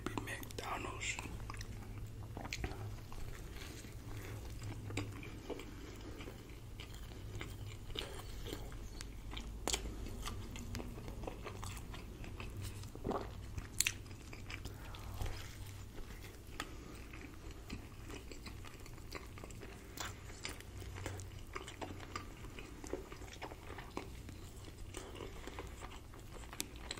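Eating a McDonald's Filet-O-Fish sandwich close to the mic, with steady soft chewing and crunchy bites over a low background hum across the whole stretch, plus occasional whispery mouth sounds.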